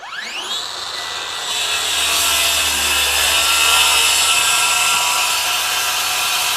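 A SKIL CR5440B 20V brushless 7-1/4-inch circular saw whines up to speed, then plunges into plywood, and its close, loud buzz thickens into a steady cutting roar.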